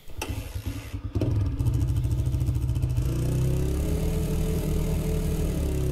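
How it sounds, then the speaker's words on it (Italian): A motorcycle engine in Motorcycle Mechanic Simulator 2021 sputters and idles roughly, then revs into a loud, uneven clattering drone that settles into a steady rumbling run. "fa un brutto rumore sta moto comunque"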